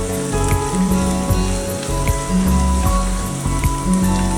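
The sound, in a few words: green chillies added to frying onions in a pan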